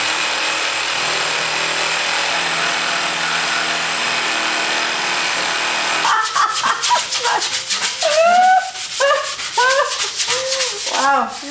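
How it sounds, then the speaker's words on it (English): A part is polished during a skoolie bus conversion, producing a continuous rubbing, sanding-like hiss for about six seconds. It then stops abruptly and is followed by short, yelping, voice-like bursts. "Wow, you're really polishing that thing up."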